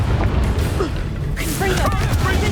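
The Incendio fire spell in Hogwarts Legacy bursts with a whooshing flare over a constant low rumble of battle, with scattered spell effects and a voice sounding amid the combat noise.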